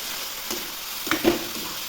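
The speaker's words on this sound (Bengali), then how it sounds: "একটু ভেজে নিয়েছি কলার মোচাটা, এতে বড়িগুলো দিয়ে দেবো, এতে দেবো লঙ্কা, জিরা আর আদার পেস্ট, ভেজে নেব।" Banana flower frying in a pan with lentil dumplings, chilli, cumin and ginger paste, a steady soft sizzle broken by a few stirring scrapes and taps near the middle.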